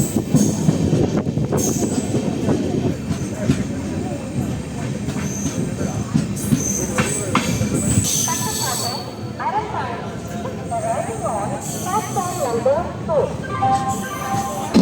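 A train rolls into Tiruvarur Junction railway station with rumbling wheels, clatter and brake squeals, loud and close, while people talk amid a busy platform.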